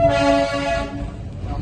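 The Darjeeling toy train sounds its horn in one sustained, loud blast lasting under a second, then the horn cuts off, leaving a low rumble of the moving train.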